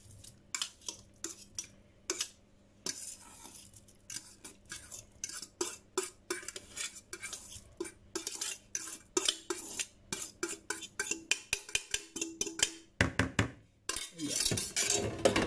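Grated carrots being mixed into pandesal dough ingredients with pandan in a bowl, utensil scraping and clinking against the bowl in quick, irregular strokes, close and fairly loud, no voices.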